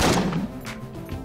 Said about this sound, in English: Let's fire the sawed off.